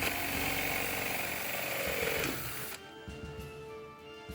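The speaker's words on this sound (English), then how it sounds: "we're just gonna drill right down the middle and create a hole" A 1-inch cutting bit bores a hole in a Captain Hook hand prop with a loud, harsh, grinding whine that runs steadily for over two seconds, then stops and leaves a quieter hum.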